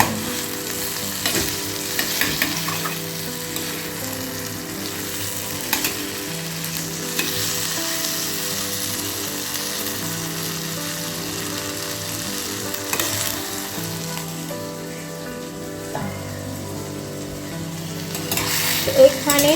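Flowers fry in hot oil with panch phoron, giving a steady, close sizzle that crackles on without pause, with faint stirring clinks mixed in.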